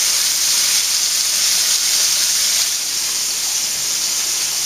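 Pork shoulder rubbed with a spice mixture browns in a hot pan, giving a steady, loud broadband sizzle and hiss that holds evenly throughout with no voices.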